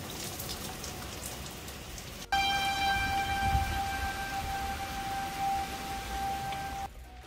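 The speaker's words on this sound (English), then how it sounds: "the tornado sirens are going off" Tornado sirens wailing in the distance in Ann Arbor, Michigan, during a thunderstorm warning with winds up to 80 mph, a steady faint tone that starts abruptly and holds for several seconds over a continuous wash of rain.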